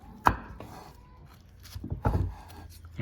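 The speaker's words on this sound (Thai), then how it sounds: "งั้นเราก็หั่น หั่นชิ้นตามชอบนะครับ" A few sharp knife cuts slice bananas on a board, one crisp chop early and a cluster of softer slicing taps later, quiet and close.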